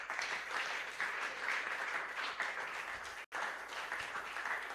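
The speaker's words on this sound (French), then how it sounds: "Est-ce qu'on peut acclamer encore pour la gloire de Jésus?" Church congregation at a Sunday worship service clapping together in a steady, dense round of applause, continuous apart from one very brief break near the end.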